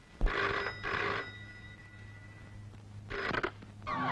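An old telephone bell ringing in bursts, two rings close together, a pause, then two more, loud and near.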